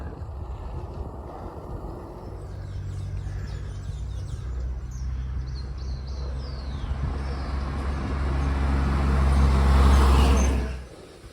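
Cars and heavy trucks rumble along a truck route between Quimbaya and Yotoco, heard from the roadside by a cyclist: a steady low engine drone that swells as a big vehicle draws close and passes, then drops away abruptly.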